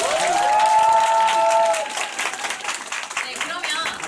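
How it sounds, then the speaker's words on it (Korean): Audience applause at a Korean Nu Skin group gathering, a dense wash of clapping from a crowd under a presenter's voice and a brief tonal chime, steady at first then thinning slightly toward the end. "다시 한번 큰 박수 부탁드립니다."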